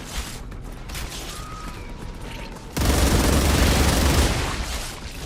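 Alien bugs firing at the player in the sci-fi game StarRupture: quiet mechanical clicks and ticks at first, then a sudden loud, sustained roar of rapid gunfire and blasts that carries on for several seconds.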